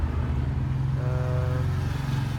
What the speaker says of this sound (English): It's a bit noisy, there's motorbikes going past.